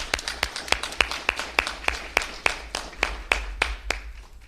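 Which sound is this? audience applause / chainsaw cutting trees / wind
audience applause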